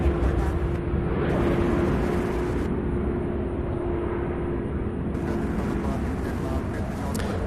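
A plane rotating on takeoff at Louisville International Airport near the UPS Worldport, heard as a loud, steady jet roar across the whole stretch with a droning tone, a radio voice talking faintly under it.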